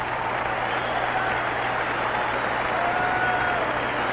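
A basketball arena crowd applauds and cheers without pause at John Havlicek's last game, a dense, steady roar heard as if from a distance through an old radio broadcast.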